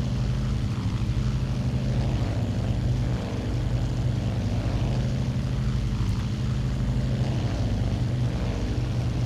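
Douglas World Cruiser biplane in flight in a video game, a steady loud droning aircraft engine hum holding constant throughout with no change in pitch, heard alone without talk.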